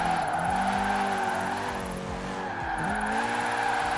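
A Volkswagen Golf 6 R in Forza Horizon 4 spins its tires through a handbrake turn, producing drawn-out squeals that bend in pitch over a steady engine drone, with a second squeal near the end.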